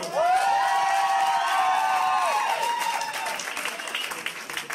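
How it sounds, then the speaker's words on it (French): A live comedy audience applauds and cheers for a comedian taking the stage, loud sustained clapping mixed with whoops and shouts that slowly thin out. "Maintenant, si vos applaudissements,"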